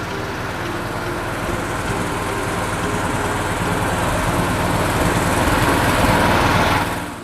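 A candlenut cracking machine made by CV Teknologi Tepat Guna runs with a loud, constant mechanical clatter and whirring rattle that swells slightly before cutting off at the end.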